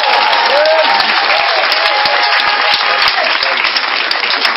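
A church congregation applauding and acclaiming Jesus, steady dense clapping from a large crowd with shouts and voices mixed in, loud and continuous throughout.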